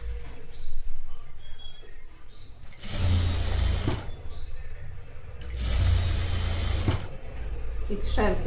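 Sewing machine stitching a netted blouse seam at a half-inch allowance, running in two loud bursts of steady rapid whirring with quieter pauses between, and a voice talking over the gaps.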